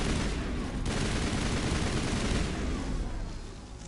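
Rapid, dense weapon fire from the Mass Effect game rattles continuously in a loud barrage that tails off slightly near the end, with no talking.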